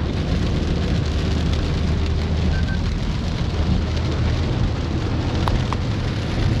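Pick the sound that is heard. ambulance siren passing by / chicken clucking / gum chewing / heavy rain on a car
heavy rain on a car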